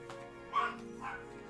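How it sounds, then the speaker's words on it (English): Dogs bark somewhere in the background, two muffled distant yips about half a second apart, faint against a quiet room. "Sorry for the dogs barking in the background."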